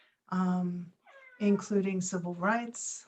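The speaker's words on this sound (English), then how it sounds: "and that's my cat." House cat meowing in the background while a person speaks, the short meows mixed in with and partly under the voice.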